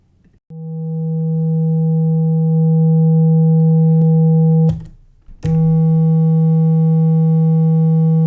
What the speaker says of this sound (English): First, a sine wave.